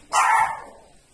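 A small dog gives a single sharp, close bark that quickly trails off into a faint tail, loud and alone without any talking.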